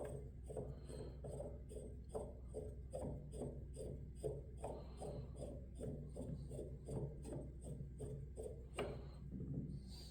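A metal butt cap is threaded by hand onto a bolt to test the fit, giving close, quiet scraping and clicking of threads in a steady series of short turns, with no talk.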